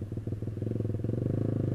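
A Yamaha YZF-R15 motorcycle fitted with a racing exhaust idles and revs close by, putting out a loud, steady, rapid pulsing burble that holds a strong, even rhythm from start to finish.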